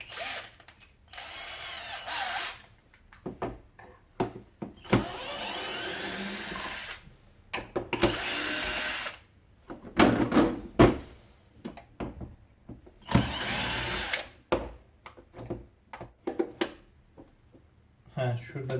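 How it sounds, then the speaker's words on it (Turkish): A Philips FC9721 vacuum cleaner is taken apart with a T15 Torx screwdriver, with bursts of whirring and screw-turning scrapes between stretches of someone talking. "Şimdi bu tork tornavidası. T15 tork tornavidası. Şöyle bir sökümünü gerçekleştirelim."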